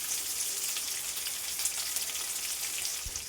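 Mackerel pieces with chopped coconut bits frying in a pan with curry leaves, giving a dense, steady hiss and crackle, close up and uninterrupted, with no voices.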